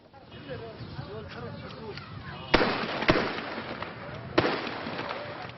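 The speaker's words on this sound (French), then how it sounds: "Des tirs de sommation dans ce no man's land qui sépare la Syrie de l'Irak." Three sharp, loud warning shots crack out in the no man's land on the Syria-Iraq border, spaced a second or so apart over ambient outdoor noise, with a voice talking faintly beneath.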